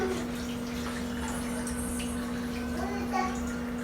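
Water poured into a pressure cooker holding leafy greens (chukka kura) and salt makes a steady, close rushing splash for several seconds over a constant low hum.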